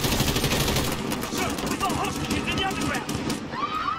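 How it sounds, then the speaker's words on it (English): Dense automatic gunfire from the Call of Duty Modern Warfare video game, a steady rattling stream that runs throughout and thins slightly toward the end, with chirpy game effects and a voice shouting over it. "Stop shooting!"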